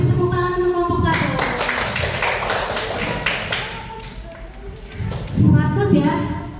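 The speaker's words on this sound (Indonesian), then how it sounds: "beri tepuk tangan untuk kelompok 1." Fourth-grade classroom applause for a student group breaks out as a burst of children's clapping, with a teacher's voice speaking before and after it.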